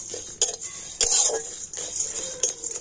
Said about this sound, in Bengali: আর এবার আমি সমস্ত মশলাগুলো একটু হালকা করে ভেজে নেব।